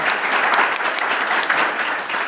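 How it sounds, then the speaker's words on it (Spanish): An audience at a renewable-energy and education panel in Chile claps steadily and warmly throughout, a dense, even wash of applause close by with no talk over it. "Un aplauso, por favor."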